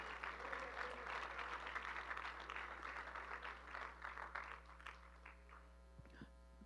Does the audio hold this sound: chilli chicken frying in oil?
no